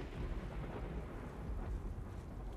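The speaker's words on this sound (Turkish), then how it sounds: "Hem yağmur hem şimşek." Thunder rumbles low and continuous under steady heavy rain in the Uncharted video game, a dense, moderately loud wash with no clear separate cracks.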